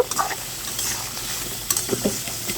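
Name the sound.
stir-frying eel fish (baim mach) curry in its own water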